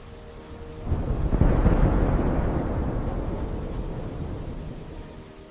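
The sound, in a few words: thunderstorm with rain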